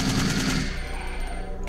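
Rapid machine gun fire in the Resident Evil 3 video game, a continuous loud burst of rattling shots.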